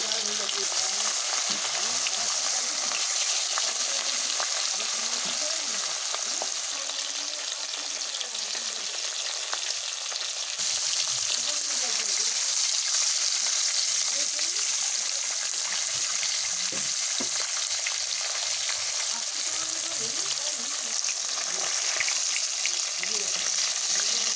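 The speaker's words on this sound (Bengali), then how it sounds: "এক একটা মাছগুলো ভালো করে উল্টে পাল্টে করে ভেজে নিচ্ছি" Rupchanda fish fry in mustard oil in a pan, a constant bright sizzle with occasional stirring and turning sounds, close and steady throughout.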